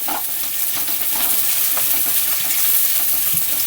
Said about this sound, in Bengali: তেলটা গরম হয়ে গেছে, তেলটার মধ্যে আমি পেঁয়াজটা দিয়ে ভেজে নেব